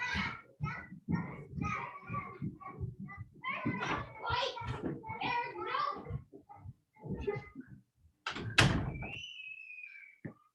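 Children's voices and scampering in the background, with a door thudding and a high squeal near the end; busy household bustle of a grandchildren's Mother's Day gathering without adult talk.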